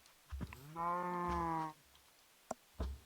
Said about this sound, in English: now we just need to wait for cow to come close